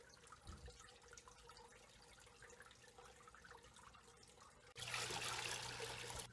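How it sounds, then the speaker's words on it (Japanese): Steady trickle of water falling from a filtration pipe as a small waterfall into a turtle pond, soft and continuous, swelling to a louder, fuller splashing rush near the end. "小さな滝を作って水を落とし込んでいます。"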